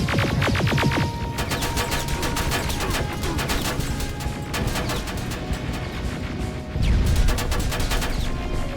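Sustained gunfire in the Terminator Resistance video game, rapid repeated shots crackling over a dense rumbling background, with louder bursts near the start and toward the end.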